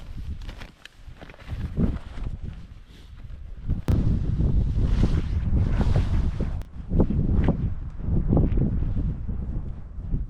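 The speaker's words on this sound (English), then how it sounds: "Every once in a while we get a good gust and kind of flatten the tent out." Strong wind gusts buffet a backpacking tent in the Alaskan wilderness, the fabric roaring and flapping in loud, sustained surges that rise and fall, with a sharp crack or two as the tent is pushed flat.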